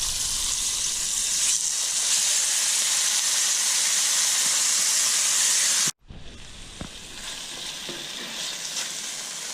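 Thin slices of moose meat with salt pork fry in hot vegetable oil in a cast iron pan, a loud steady sizzle that cuts out abruptly, then resumes softer and builds again.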